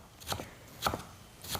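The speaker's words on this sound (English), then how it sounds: "I don't mind chopping vegetables." Vegetables chopped with a knife on a cutting board: three distinct, evenly spaced chops, close and crisp, with quiet pauses between them.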